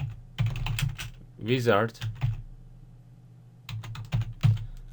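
Computer keyboard keys clack in short quick bursts close to the mic, with a voice briefly speaking between the typing runs.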